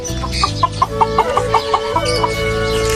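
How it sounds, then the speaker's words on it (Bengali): Chickens cluck in a steady series of short, close calls, one after another, over a low background hum, with several birds gathered at a feeding spot among pigeons. "এগুলো হচ্ছে মুরগি"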